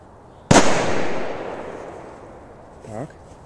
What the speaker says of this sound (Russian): дальше у нас петарда будет с треском, вот такой Корсар 4